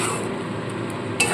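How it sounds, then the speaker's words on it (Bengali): Fish roe with lemon juice being stirred in a pan, a steady low sizzle with faint utensil scrapes and a brief clink near the end. "দেখুন এখানে লেবুর রসটা দিয়ে দিলাম, দিয়ে খুব ভালো করে মিশিয়ে নেব।"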